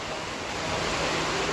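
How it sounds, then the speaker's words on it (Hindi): Heavy rain pours steadily outdoors beside a covered festival pandal during the monsoon, a dense, continuous broadband wash that stays loud and unbroken, with no voices over it. "अच्छा खासा तेज़ी से पानी चल रहा है भाई"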